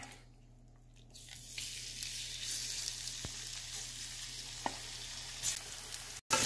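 Shrimp hitting a hot wok set off a steady, broadband sizzle that swells after a quiet start and holds close and loud, with a couple of sharp clicks near the end.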